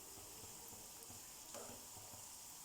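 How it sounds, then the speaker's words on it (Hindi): Chicken bread rolls fry in hot oil, giving a faint, steady sizzle with small crackling pops and a brief spattering burst near the middle. "अब हम ये रोल इसमें फ्राई कर लेंगे।"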